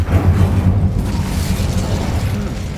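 The Incendio fire spell in Hogwarts Legacy erupts as a loud, sustained fiery roar with a heavy low rumble that fills the whole moment and stays steady without a break.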